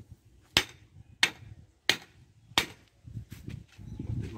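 Four sharp, loud hammer blows land at a steady rhythm on a wooden stake at a building site while a room is being built, followed by a few lighter taps and low rumbling.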